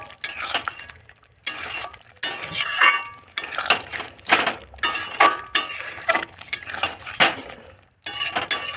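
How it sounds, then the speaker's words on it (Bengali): A utensil stirs spiced meat seasoned with garam masala and meat masala in a metal pan, giving repeated scraping and clinking strokes in bursts broken by brief pauses, loud and close with no talking. "এখন একটু নাড়াচাড়া করে নামিয়ে নেব।"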